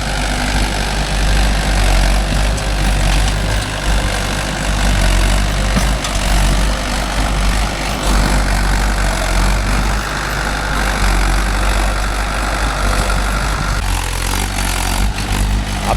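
A Mahindra tractor engine runs steadily nearby, a heavy low chugging drone that holds constant and dips slightly near the end.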